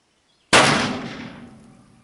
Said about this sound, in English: that first one that's going to go off is the one I couldn't seat the bullet or the ball down as far as I would like to have